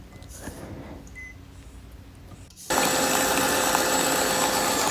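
An electric hand mixer whirs steadily and loudly as it beats chocolate pound cake batter in a bowl. It starts abruptly after a quieter stretch of kitchen background noise and runs on unbroken to the end.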